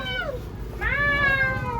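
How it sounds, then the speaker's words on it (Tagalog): A cat gives one drawn-out, rising and falling meow with a strained, angry edge, fairly close and loud over a low background rumble, with no talking. "Nagagalit sa inyo yung pusa."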